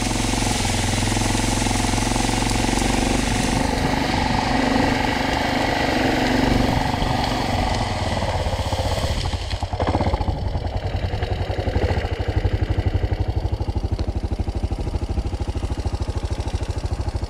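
A Kawasaki KLF 300C Bayou quad ATV engine drones steadily and loudly close by while riding, with a rough, throbbing idle-like rumble that shifts slightly partway through and carries on without pause.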